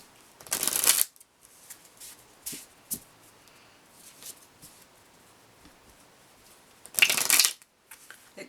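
Lenormand cards being shuffled in two loud, close bursts of riffling separated by quieter handling and faint rustles, with no talking.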